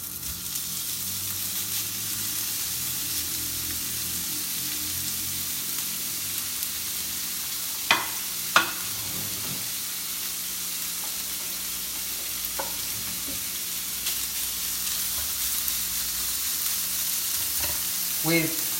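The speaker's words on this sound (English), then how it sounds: "Then we're going to saute in a frying pan, hot frying pan," Bacon crackles and sizzles steadily in a hot frying pan, a constant broadband hiss with a few sharper pops and scrapes, no voices.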